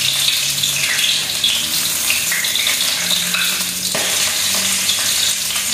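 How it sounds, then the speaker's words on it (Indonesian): Sliced shallots and garlic sauté in a pan for gizzard stir-fry, a steady loud sizzle throughout with occasional scraping stir sounds and no talk. "Bawang merah, bawang putihnya diiris-iris saja, nggak diulek-ulek langsung ditumis."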